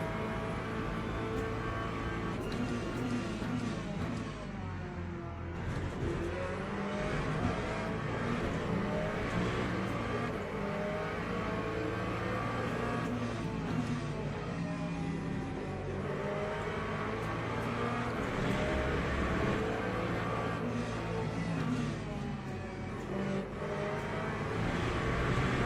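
A Corvette race car engine in the Le Mans Ultimate sim racing game drones steadily throughout, with rising and falling revs as it shifts through gears, continuous and loud with no pauses.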